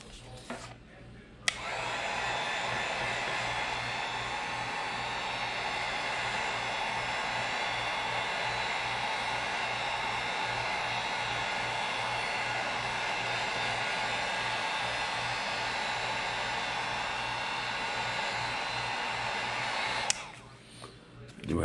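A heat gun blows steadily on poured epoxy resin for about twenty seconds, a continuous loud airy roar that starts abruptly and cuts off at the end, with brief quiet moments before and after.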